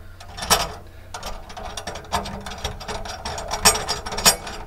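Ratcheting clicks from a tool tightening the mounting screws of a garbage disposal against the sink flange, close and repeated in short uneven bursts with mechanical rubbing between them.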